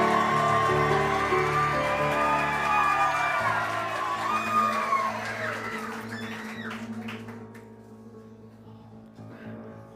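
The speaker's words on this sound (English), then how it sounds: "please applaud now" An audience at a live musical-comedy show at the 54 Below cabaret whoops and cheers loudly over sustained music, the crowd noise swelling at first and then gradually fading over about ten seconds.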